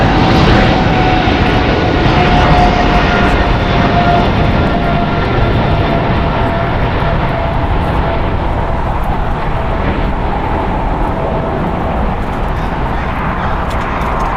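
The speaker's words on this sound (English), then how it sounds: "China Airlines cargo flight 5155 going to Osaka. It is a Boeing 777 freighter" A two-year-old China Airlines Boeing 777 freighter operating at LAX makes a loud, steady jet engine roar that fills the whole stretch, with a faint whine running above it.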